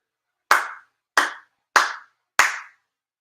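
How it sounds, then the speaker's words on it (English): Four firm, evenly spaced hand claps ring out alone in quiet, each sharp and close with a brief tail, as part of a monthly Shinto shrine ceremony in Chula Vista. "4 sincere claps."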